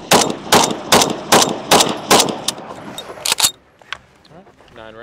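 A Gewehr 43 rifle fires a rapid string of loud, close shots in quick succession, emptying five rounds in under four seconds, followed by quieter mechanical clicks and rattles afterward.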